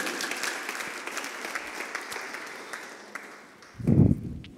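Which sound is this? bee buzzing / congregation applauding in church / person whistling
congregation applauding in church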